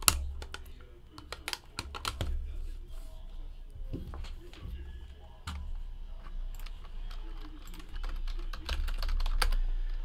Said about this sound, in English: Let's get the hits typed in here.